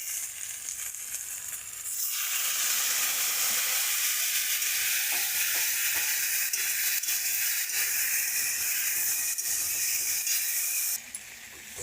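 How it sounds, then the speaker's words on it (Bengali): A spice paste of tomato, chilli, salt, turmeric and ground cumin-coriander with a splash of water sizzles hard in a kadai, a loud, dense, continuous hiss that swells after a quieter start, with faint stirring scrapes. "দিয়ে একটু জল দিয়ে কষিয়ে নেবো।"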